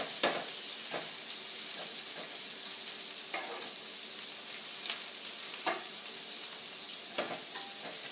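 Shrimp sizzling on a grill, a steady loud frying hiss with light clicks and pops recurring every second or so, close by and with no talking.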